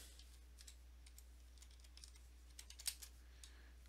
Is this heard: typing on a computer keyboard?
yes